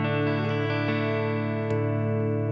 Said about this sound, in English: There's something better clean. That's a Fender Deluxe Reverb setting.